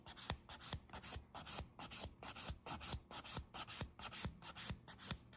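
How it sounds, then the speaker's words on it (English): A nail file rasps back and forth across a fingernail, filing and thinning it in steady, rhythmic strokes about two per second. The scratching is soft, close and continues without a break, with no talk. "that center or that lower arch, that we're just filing and debulking through here"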